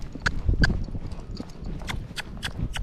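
A Rocky Mountain Horse under saddle lays down steady, evenly spaced hoofbeats on the ground outside, a smooth gait with soft, close clip-clops and no talking.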